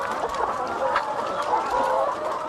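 Many chickens cluck steadily in a dense, continuous chorus at a laying hen farm holding more than 5,000 birds, close and fairly loud with no other sounds.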